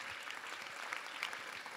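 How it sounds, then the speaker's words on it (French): Brief burst of audience applause at a live show, thanking the metropolitan authority, a thick steady patter of many hands clapping at moderate volume. "J'aimerais aussi qu'on fasse un tonnerre d'applaudissements pour la métropole"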